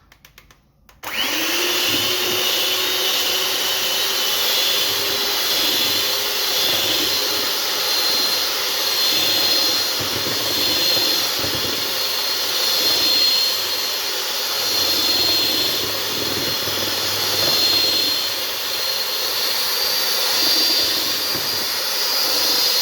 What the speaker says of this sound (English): we're just going to whisk until we get soft peaks